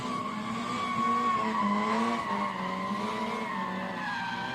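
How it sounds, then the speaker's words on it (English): Race car tires squealing hard through a figure eight at a drifting event, a loud, sustained screech with wavering tones over the engine, continuous for several seconds. "Tires squealing as she finishes up her figure eight."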